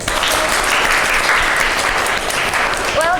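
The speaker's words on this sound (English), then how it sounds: "Vika and Ade, give in applause" A small classroom group gives a short round of applause at a microteaching session, steady clapping throughout that is close and fairly loud.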